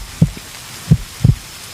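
Three soft, low thumps of a heartbeat sound close up and quiet in an intimate setting, the beats irregularly spaced over less than two seconds, with no talking.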